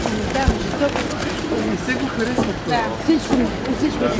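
A small young pigeon, sheltered indoors in midwinter, coos softly in low, repeated calls while a person talks nearby.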